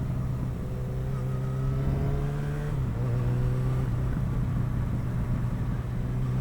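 A Yamaha XJ6 motorcycle cruises along country lanes, its engine droning steadily with a clear gear change partway through, heard from the rider's position under constant wind noise.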